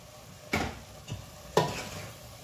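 Gizzard and garden egg being stirred in a frying pot, with two sharp scraping strokes and a lighter one in between over a soft background sizzle, close and moderately quiet, no talking.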